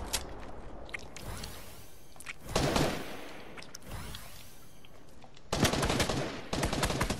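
Rapid Fortnite gunfire crackles through the whole stretch as dense, continuous bursts, with louder volleys near the middle and toward the end, and no talk over it.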